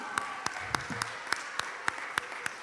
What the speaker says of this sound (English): We want to give them a second round of applause.